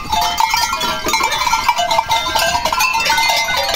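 Goats penned in a rural goat pen on a farm, a herd of around a hundred or more including bucks, bleating repeatedly and overlapping in a dense, continuous chorus at close range.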